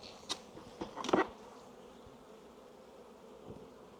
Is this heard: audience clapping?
no